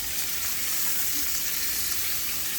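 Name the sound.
turnip greens sizzling as put into hot pot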